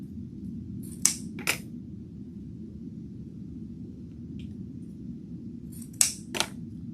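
A plastic zip tie is ratcheted tight around ribbon and decorative mesh for a door hanger, two short clicking bursts several seconds apart over a low steady room rumble.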